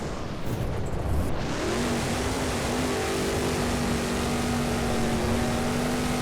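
A car engine in the BeamNG driving game hums in a steady drone, rising in pitch and then holding a sustained tone, with a rushing wind-like wash over it.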